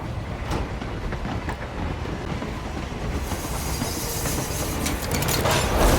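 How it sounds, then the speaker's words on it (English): A big train in the video game Hitman 3 rolls along with a steady, heavy rumble and rail clatter, and the noise grows louder and brighter toward the end with no talking. "It's a fucking big ass train, isn't it?"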